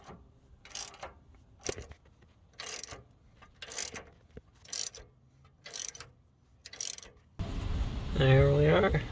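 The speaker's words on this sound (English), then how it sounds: "on the back side there, I'll slide on this box wrench" A box wrench works a nut on a new Moog sway bar link on a Hummer H3 in a steady series of sharp metallic clicks at regular intervals, followed by a short louder burst at the end.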